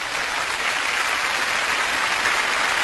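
Audience at a Xi Opera concert applauding, a dense, steady roar of clapping that fills the whole stretch without a break.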